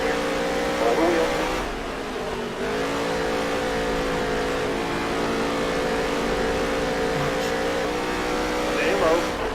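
A pack of NASCAR Heat 3 stock cars roars around the dirt oval at Eldora, with close, steady engine drones layered together and shifting pitch as they bunch up, plus faint tire scrub in the background.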